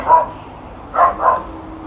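A dog barks close by, one sharp bark followed after a pause by two quick barks, fairly loud against a quiet background.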